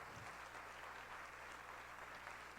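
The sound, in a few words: church congregation applauding Jesus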